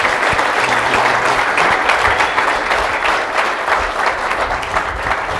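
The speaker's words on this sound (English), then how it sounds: "How about a nice round of applause for her?" Steady, dense applause from an audience at the Intranet Reloaded 2015 conference in Cambridge's Hotel Marlowe, a close, loud wash of many hands clapping without pause throughout.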